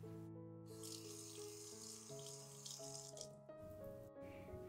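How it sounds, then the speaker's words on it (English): Warm water runs steadily from a sink tap over a Gua Sha facial massage tool, a continuous close splashing stream with a low musical hum beneath it and no talking. "I'm going to wet the Gua Sha tool with warm water."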